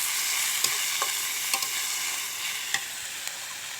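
Chopped potatoes frying in a pan, a continuous soft sizzle punctuated by several light spoon taps and scrapes as they are stirred; no voices.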